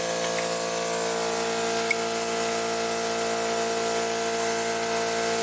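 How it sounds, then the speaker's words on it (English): A power grinder runs steadily on a part during the teardown of a turbocharged B20 VTEC engine from a Honda Del Sol. Its loud continuous whine has tonal bands and holds without a break. "Today I want to grind it."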